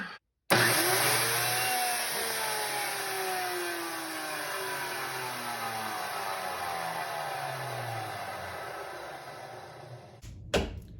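A repaired electric motor is switched on after its power is connected and spins up with a loud, steady hum and whine that falls slowly in pitch, then cuts off near the end.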